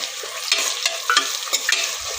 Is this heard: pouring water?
no